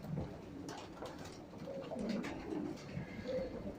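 Pedigree racing pigeons coming in for their feed coo softly and repeatedly, with several low, throaty calls overlapping close by.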